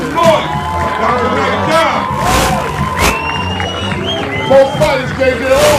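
A crowd at a boxing event cheers, whoops and shouts loudly and continuously in a large hall, with an announcer's amplified voice partly mixed in.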